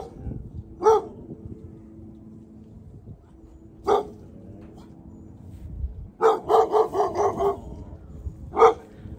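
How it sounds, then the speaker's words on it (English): Dogs bark in scattered single yaps, then a quick run of several barks, somewhat distant over a low background rumble. "letting his dogs bark"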